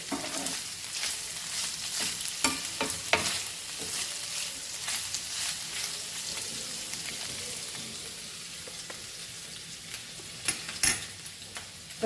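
Pork pieces for Goan sorpotel fry in a pan with no added oil, rendering out their own fat, giving a steady close crackling sizzle with scattered sharp pops throughout.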